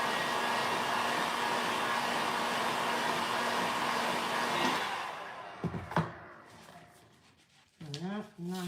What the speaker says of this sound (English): Always keep your heat gun going